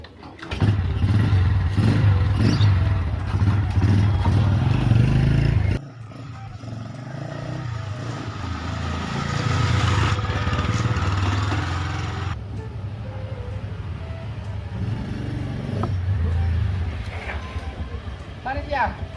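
A motorcycle engine rumbles loudly and steadily, its low drone shifting in pitch partway through, with voices talking over it.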